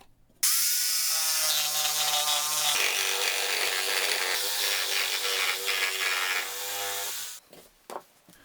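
A power tool cutting wooden parts along template outlines for a steampunk-style night lamp, one sustained whining, buzzing cut of about seven seconds that starts abruptly and winds down, close and loud, with no voices.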